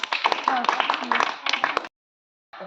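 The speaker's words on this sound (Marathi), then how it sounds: "टाळ्या वाजवा" Schoolchildren in a classroom clap their hands in a quick rhythmic burst alongside voices, a crisp patter lasting under two seconds, then a short silence before another brief sound.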